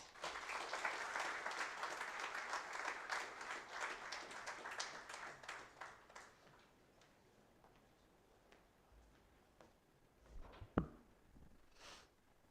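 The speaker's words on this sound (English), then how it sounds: "a big round of applause" Dense applause from a crowd fills the first half, then thins out to scattered claps and a few sharper knocks before fading.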